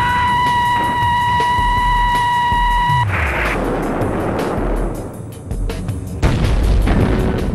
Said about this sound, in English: dropping depth charges.